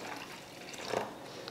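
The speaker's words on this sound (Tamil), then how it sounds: "மாற்றிட்டு கொஞ்சமாக நம்ம தண்ணி கலந்துக்கலாம்." Water is poured into ground chutney in a bowl, a brief soft trickle and splash against a quiet kitchen background.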